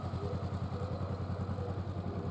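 A motorcycle engine idles steadily at a training session for A2 licence riders, with a Yamaha R6 and Honda CBR in use; a low, even pulsing throb runs continuously, close and moderately loud, with no talking.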